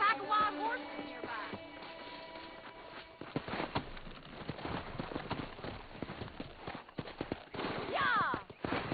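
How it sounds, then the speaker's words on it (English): Wild horses galloping in Red Dead Redemption, a patter of hoofbeats under game voices that builds louder toward the end, with a whinny near the start. "That ranch hand said there's a pack of wild horses nearby."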